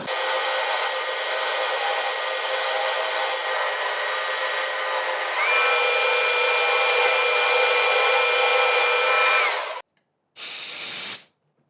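A worn 1/8 inch end mill cutting a carburetor float bowl from a 2007 Polaris Sportsman 450, a loud steady high whine. The whine shifts pitch partway through, then stops abruptly, and a short final burst of cutting follows.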